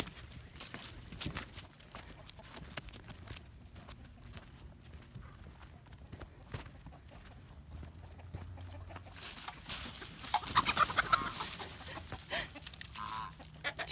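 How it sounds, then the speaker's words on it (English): Chickens cluck faintly in an outdoor yard, mixed with the clip-clop of a horse's hooves, and the clucking grows a little busier toward the end. "Chickens don't know what to think."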